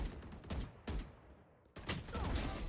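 Gunshots in a VALORANT deathmatch: several sharp, close reports in quick succession, a short pause, then a louder sustained volley of rapid fire, with no speech over it.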